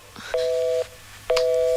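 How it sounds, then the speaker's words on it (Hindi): Telephone line tones after a call is cut off, two identical beeps about a second apart, each lasting roughly half a second, clear and close with no voices. "फोन कट गया।"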